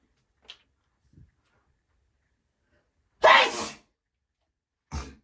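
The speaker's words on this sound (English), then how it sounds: "Oh, I've been sneezing." A faint intake of breath, then one loud, close sneeze in near silence, followed by a short softer exhale or sniff.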